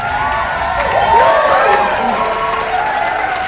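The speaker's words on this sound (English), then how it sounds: "Sanju Samson's presence sent the crowd into a frenzy" A large crowd of fans roars and cheers for cricketer Sanju Samson, captain of the Rajasthan Royals, a loud, steady wash of voices with rising shouts and whistles, under music-like tones.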